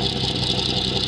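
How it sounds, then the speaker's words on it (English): A classic car engine at a classic and supercar weekend runs with a steady, loud, close mechanical drone, holding a constant note without a clear rise in revs. "Go on, rev it."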